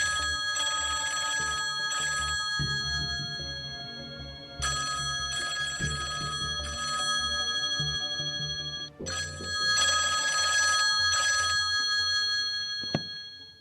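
An old-style telephone bell ringing while a Murray Hill number is dialled, in bursts of bright repeated ringing separated by short pauses, fairly close and clear, no voices.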